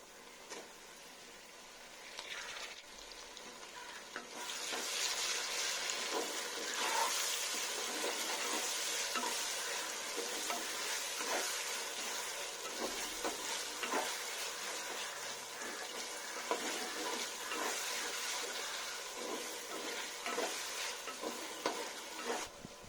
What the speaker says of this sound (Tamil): தக்காளி பார்த்தீங்கன்னா நல்லா வதக்கியாச்சு